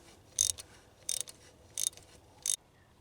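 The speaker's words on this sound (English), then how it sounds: "So we're gonna get this bolt off here." Ratchet wrench working a Torx bolt on a Grand Am fuel pressure regulator, four short sharp clicking bursts at roughly even intervals, close and alone over quiet background.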